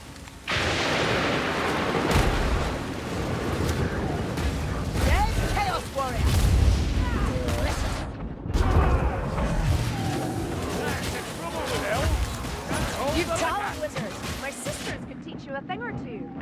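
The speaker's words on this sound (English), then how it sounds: "You hear that? Rattling gunner." A Ratling gunner in Warhammer Vermintide unleashes a sustained stream of rapid gunfire, a dense continuous rattle mixed with booms and combat noise, while voices talk over it throughout.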